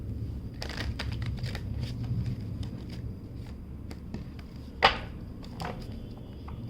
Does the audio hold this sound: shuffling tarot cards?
yes